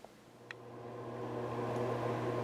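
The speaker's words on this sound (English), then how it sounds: "I do apologize for the exhaust fan noise" A steady, droning bathroom exhaust fan hums close by, its whir building slightly louder over a couple of seconds, with two faint clicks near the start.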